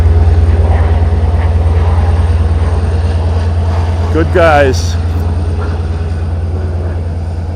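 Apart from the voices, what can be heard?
Long Island Rail Road train passing with jet flying overhead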